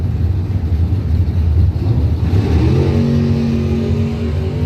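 Drag racing cars in a Pro Systems bracket event launch down the track, their engines a loud, sustained roar that rises in pitch as they accelerate away.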